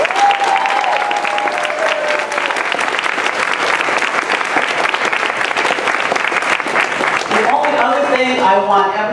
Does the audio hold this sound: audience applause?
yes